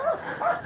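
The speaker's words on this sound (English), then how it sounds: "We've got 4 today. 4 dogs today." Dogs giving short, whining barks and yips close by, two or three quick high calls in under a second.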